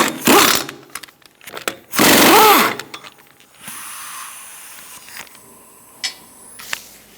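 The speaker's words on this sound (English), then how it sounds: "I'm going to remove our lug nuts." A power tool on a 21mm socket spins lug nuts off a 2002-2006 Toyota Camry wheel in two loud whirring bursts, followed by quieter metallic clinks and handling sounds, close up and with no speech.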